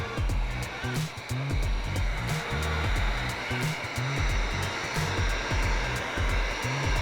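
A heat gun blows hot air over the edges of a ski wrap with a continuous close, loud whooshing roar, steady throughout and punctuated by faint clicks and handling knocks.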